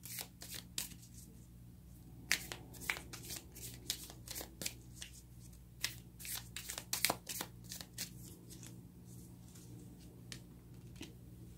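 Tarot cards being shuffled close up, a quiet run of crisp riffling snaps and soft flicks repeating irregularly across the stretch with no talk.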